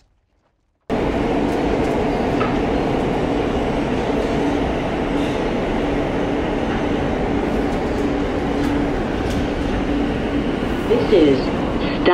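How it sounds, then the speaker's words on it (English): A New York M local subway train runs with a steady loud rumble and rattle inside the car, starting abruptly after a moment of silence, with faint squeals near the end. "This is a Forest Hills 71st Avenue bound M local train."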